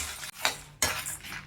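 Horse gram lentils, garlic and 10-12 dried red chillies dry-roasting in a pan. A utensil gives two or three quick scraping stirs against the metal, with faint rattling in between.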